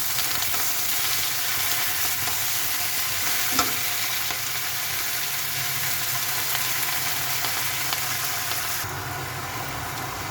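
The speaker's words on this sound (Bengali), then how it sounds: "এখন পালং শাকটা ভেজে নিব, কাঁচামরিচ দিয়ে দিলাম" Spinach and green chillies fry in a pan with a loud, continuous sizzle and hiss. A brief stir or clank cuts through midway.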